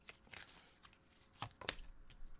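A few quiet riffles and taps of tarot cards being shuffled close by, with a sharper snap near the end and no talking.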